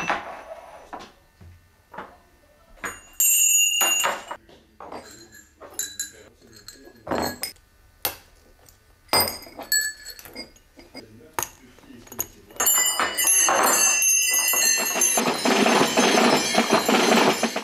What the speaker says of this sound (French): Et on vient ajouter les cloches à la dernière semaine, cloches qui sont récurées.